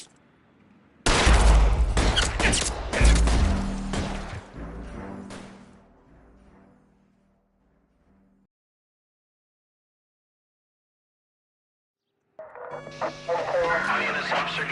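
A loud, chaotic fusillade of gunshots fills a shootout in the video game LA Noire, with rapid overlapping cracks fading out. Silence follows, then another burst of firing erupts, mixed with voices and radio chatter.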